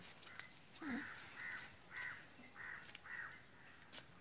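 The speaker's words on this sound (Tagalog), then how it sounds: "yung background ko guys is yung mga ibon" Several crow-like bird caws ring out in a loose series at moderate distance over a quiet outdoor background in Sri Lanka.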